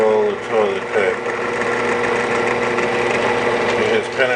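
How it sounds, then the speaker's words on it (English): Benchtop drill press boring into a roll of toilet paper, a steady whirring motor hum with faint grinding as the bit bites the layers, fairly loud and continuous with brief pitch shifts. "we are ready to drill into this poor little roll of toilet paper"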